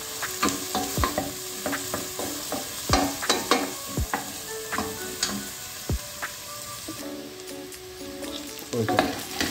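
Onion and garlic sauté in a pan for a chicken pie filling. Lively sizzling plays close up, broken by sharp scrapes and taps of a utensil being stirred and knocked against the pan.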